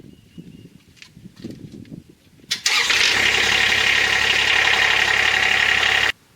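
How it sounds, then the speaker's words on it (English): A quiet, faint shuffling gives way to a Kubota RTV-X1140 utility vehicle engine cranking and starting after an oil change, then running loudly at a steady idle before abruptly cutting off. "We're going to start the engine now, let the oil circulate through"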